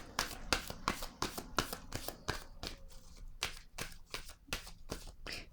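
Oracle cards are shuffled by hand in a quick run of crisp, close riffling snaps and slaps at a brisk, uneven rhythm, fairly quiet and without speech.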